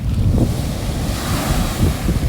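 Seawater surges in over the shore beside a sea wall with a churning, surging roar, mixed with strong wind buffeting close to the microphone.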